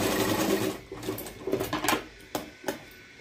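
A sewing machine stitches the side seam of a blouse, its rapid mechanical whir running in short bursts with brief pauses between runs of stitching.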